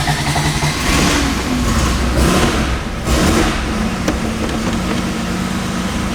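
A classic Porsche engine runs from a full cold start, revving up in loud bursts between rough idling, close by and dominant, with a few sharp blips of throttle across several seconds.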